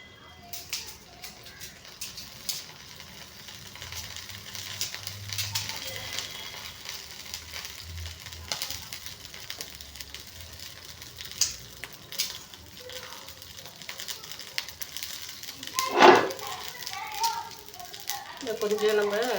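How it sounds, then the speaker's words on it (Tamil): Steady crackling sizzle of spices tempering in hot oil for rasam, continuous and close, with a sharp clatter near the end. "கொஞ்சோண்டு ரசம் தாளிக்கலாம் இல்லைங்களா"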